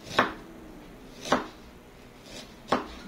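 A knife chops onion and ginger on a board in three separate, crisp strokes spaced about a second apart, close and isolated against a quiet kitchen.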